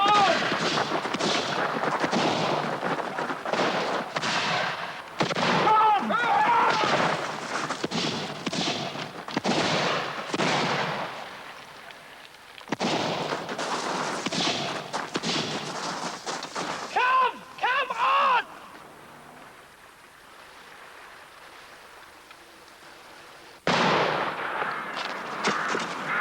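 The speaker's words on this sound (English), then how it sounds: "Catesby and Percy were killed by a single shot from the musket of a man called John Street" Musket shots in a staged early 17th-century fight at a house during the Gunpowder Plot, loud sharp bursts repeating over shouting voices and commotion, with a quieter stretch near the end.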